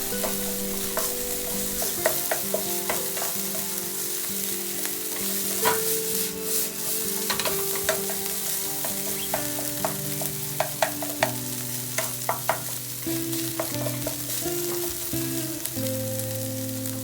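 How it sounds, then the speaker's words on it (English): Ground meat for mapo tofu fries in a pan with a continuous close sizzle, broken by frequent scraping and clacking stirs of a utensil against the pan. Nobody speaks. "You'd want to fry the meat for a while to bring out nice roasting flavor."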